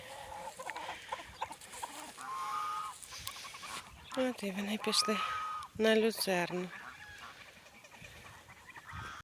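Geese honk loudly in repeated bursts near the middle, mixed with clucking fowl, while someone speaks over the flock.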